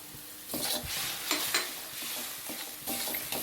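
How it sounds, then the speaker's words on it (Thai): Eggplant stir-fry sauce with oyster sauce, soy sauce and sugar stirred in a hot pan, heard as repeated close scraping strokes over a steady sizzle, with no voices. "แล้วก็คน ทุกอย่างให้ละลาย ให้ เข้ากันให้หมดเลยนะครับ"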